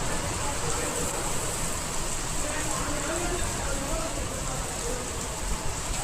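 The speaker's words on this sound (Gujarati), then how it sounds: "મસ્ત વરસાદ આવે છે, પવન ખૂબ છે" Heavy rain pours down in strong wind, making a dense, roaring wash of noise that fills the whole stretch without a break.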